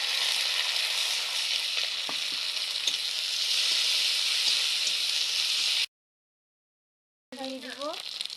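Ginger and garlic paste sizzling in a small amount of frying oil with lightly browned onions: a steady, loud hiss that cuts off abruptly, then returns with a voice talking over it.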